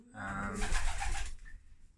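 Pigeons coo softly nearby, a short throaty warble with a faint chirp at the end.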